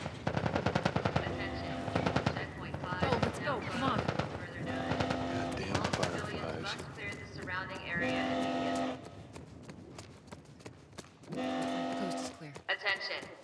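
Rapid bursts of automatic gunfire in The Last of Us Part I, loud and repeated in several volleys, with shouting voices and game music mixed in between the shots.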